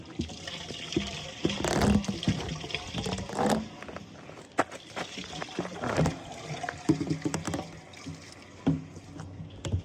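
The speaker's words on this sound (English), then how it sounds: "And I'll rinse this out because that was all poop, literally." Water running and splashing steadily as a container is rinsed out on a homestead, close and continuous with uneven sloshing throughout.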